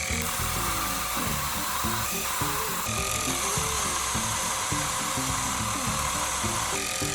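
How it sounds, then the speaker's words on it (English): A small Micro-Mark mini belt sander runs steadily with 120-grit paper, sanding the edges of a wooden piece, giving a continuous close whirring rasp with slight shifts in pitch as the work is pressed and moved. "So I'm gonna turn this little guy on and we will sand those edges."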